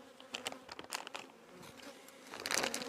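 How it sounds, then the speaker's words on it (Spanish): Wasps trapped inside a paper package buzz in short, uneven bursts, close and fairly quiet, alongside faint crinkling of the wrapping. "dejé el paquete este con 2 o 3 abejas dentro y ahora está lleno de avispas"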